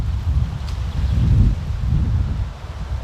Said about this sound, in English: I don't know where this wind's coming from